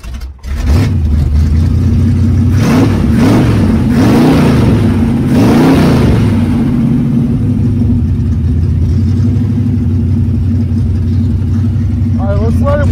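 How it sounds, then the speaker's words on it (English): The engine of a Ford Fairlane trike restarts after a brief pause, then runs loud and steady close by, with a few rising revs early on before settling into an even, sustained drone. "try and restart it"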